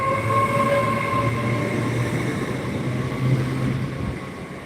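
A Great Western Railway Class 802 unit, 802111, running past on the main line, producing a continuous loud rolling rumble with tonal hum that eases slightly toward the end.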